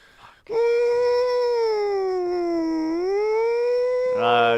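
A voice imitates a tornado siren with one long, steady wailing tone that dips slightly midway and then rises again, loud and sustained.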